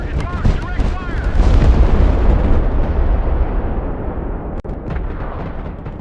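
Heavy artillery fire in the war video game Broken Arrow, deep booming blasts and rumbling impacts close and loud, rolling into a fading low roar with a sharp crack near the end.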